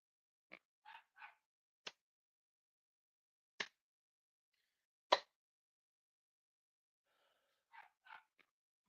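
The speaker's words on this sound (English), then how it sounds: "This dog does not stop barking." A dog barks in short, sharp bursts, a few doubled, spread across the stretch with long silent gaps between them. The barks sound fairly close and stand alone with no talk over them.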